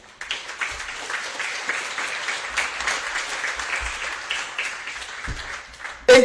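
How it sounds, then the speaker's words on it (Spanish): A church congregation applauds together, a dense, steady crowd of claps lasting about six seconds, then fades abruptly as a voice starts. "Démosle un aplauso a Jesucristo."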